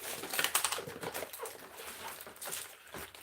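Wrapping paper rustles and crinkles in irregular bursts at close range, crisp and papery throughout, with light scraping and handling sounds mixed in.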